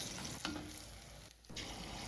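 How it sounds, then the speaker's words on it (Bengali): Malpua frying in hot oil gives a close, steady sizzle with a stirring scrape, a short clatter, and a brief dip in the hiss before it swells back. "এই যে এখন ভাজছে মা মালপোয়া"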